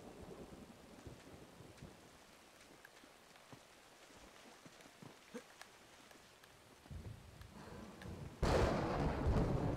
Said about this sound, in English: The thunder's a nice touch.